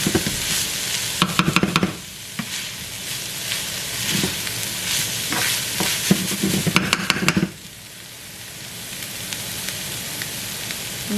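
Shepherd's pie filling sizzles and fries in a pan under a steady hiss, broken by bursts of scraping as a utensil stirs it several times, close and fairly loud.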